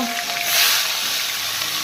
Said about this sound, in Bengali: এখন এই যে মাছ ভাজা করব